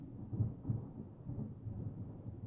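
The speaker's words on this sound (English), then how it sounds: "Do you hear that thunder?" Low, faint rolling thunder rumbles steadily in the game Deadly Premonition 2, a distant storm grumbling on its own with no voices.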